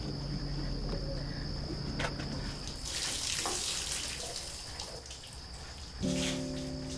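Water runs for bathing in a steady, soft hiss like a tap pouring, with faint insect chirping in the background and a brief tonal hum near the end.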